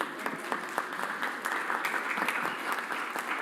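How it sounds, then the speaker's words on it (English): A round of applause from the audience at a company annual general meeting, steady dense clapping of many hands that holds for a few seconds at moderate volume. "I think he deserves a round of applause."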